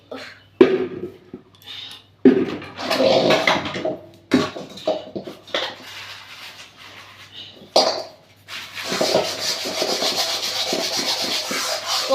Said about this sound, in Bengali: বাসনটা একটু ভিজুক আমি শুধু কড়াটাই মেজে নিই